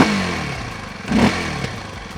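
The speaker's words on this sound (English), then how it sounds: "why don't I also give you a quick exhaust note check." A Kawasaki KLX 230 off-road motorcycle's exhaust note, a gruff single-cylinder engine heard close up, idling with a short throttle blip near the middle.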